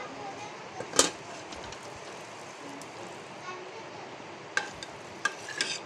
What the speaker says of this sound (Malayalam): അതിലോട്ട് കടുക് വെളുത്തുള്ളി കറിവേപ്പില അല്പം മുളക് പൊടിയിട്ട് നമ്മളൊന്ന് താളിച്ച് ചേർക്കണം